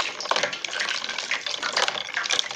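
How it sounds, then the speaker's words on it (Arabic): Flour-coated chicken pieces (flour, starch and baking powder) are dipped into iced water, giving a continuous close splashing and sloshing of liquid with no talk. "بصي اهي اروح احطها في الميه المتلجه اهي"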